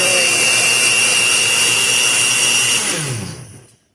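A blender runs loud and close at a steady high whine while pureeing strawberries for frozen custard, then spins down and stops near the end, with no talking.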